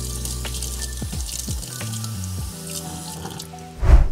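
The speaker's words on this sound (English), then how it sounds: "rinse it off with some water" Tap water runs steadily over a 3D-printed nightguard as it is rinsed clean of soap bubbles, with the water's pitch shifting as the piece moves through the stream and a louder splash at the end.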